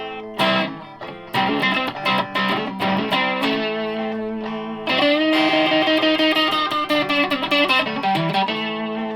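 An Encore Strat-style electric guitar with a bridge humbucker blended with the neck pickup plays loud chords and single notes through distortion and effects, picked in rhythmic bursts with sustained ringing.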